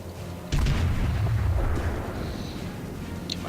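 A loud boom of naval gunfire from the Japanese cruiser Aoba in World of Warships, a sudden blast followed by a long rumbling decay, alone with no talk.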